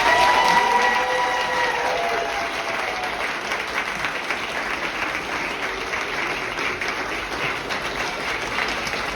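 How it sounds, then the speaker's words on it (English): An audience at a kindergarten graduation applauds the graduating class with steady, full clapping and some crowd noise. A few voices rise faintly at the start. "Let's give them a round of applause."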